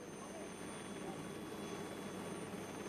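Helicopter near a remote jungle village in the rainy season, a steady low rotor and engine drone held at an even level throughout, with no distinct passes or beats.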